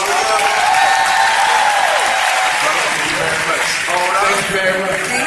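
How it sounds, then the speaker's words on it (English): A crowd gives a round of applause for two speakers at a motivational speaking event, loud sustained clapping with a voice carrying over it. "Everybody give them a round of applause."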